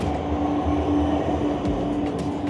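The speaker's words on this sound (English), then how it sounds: "And here's a tram going past on that green patch of land" An Amsterdam tram rolls past on a grassy track section, a loud, steady rail rumble with a faint whine and a few light clicks, no voices.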